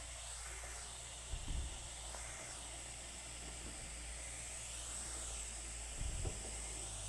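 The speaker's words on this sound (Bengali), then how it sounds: "তো একইভাবে বাকিগুলো আমি ভেজে নিচ্ছি।" Khurma (murali) snacks fry in very hot oil with the gas flame switched off, giving a steady, even hiss that runs throughout, broken by two soft low thumps.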